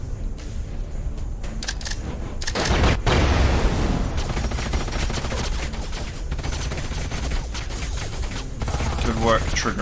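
Gunfire in the sci-fi strategy game Age of Wonders: Planetfall: a loud, dense barrage of rapid shots and bursts with a heavy blast near the three-second mark, continuing throughout.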